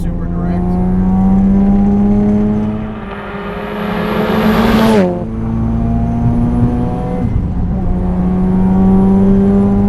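Modified 400+ hp FD Mazda RX7 rotary engine revving, a loud buzzing rise climbing to a high-pitched peak, falling away, then settling into a surging idle.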